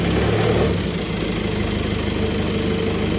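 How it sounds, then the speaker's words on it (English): A Volkswagen BEW TDI diesel engine idling close by at 700 RPM, a steady low rumble with a faint rhythmic chug that holds even for the whole stretch. "It now idles at 700 RPM. Smoothly too."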